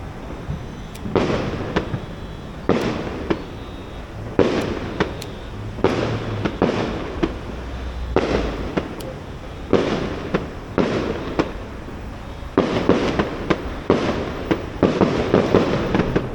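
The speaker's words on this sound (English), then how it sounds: "Scientology be shooting off fireworks, bro." Fireworks shot off over the Hollywood Hills, a long irregular series of sharp booming bursts, about a dozen distinct bangs, some spaced and some clustered, heard from a distance.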